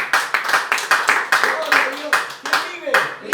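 A church congregation claps hands together in steady rhythmic bursts during a worship service, the claps loud and close, with voices faintly underneath.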